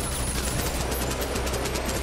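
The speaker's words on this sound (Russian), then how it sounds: "Дэдпул достал пулемет и начал стрелять из него, не жалея патронов." Machine gun fire used as a sound effect in a superhero prank skit: a loud, continuous stream of rapid shots with a steady rattling rhythm from start to end, close and dense, with no pauses.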